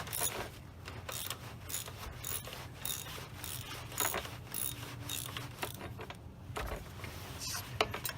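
Ratchet with a 13 mm deep well socket loosening a bolt near the fuel pressure regulator and filter of a 2000-2005 Chevrolet Impala with the 3400 engine, a run of close, quiet rapid clicks in uneven bursts.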